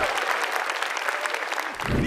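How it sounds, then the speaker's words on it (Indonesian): Audience applause for a stand-up comedian at a comedy show, a dense steady wash of clapping that holds for about two seconds, then thins near the end as a voice begins under it. "Beri tepuk tangan yang meriah untuk Eja Saputra"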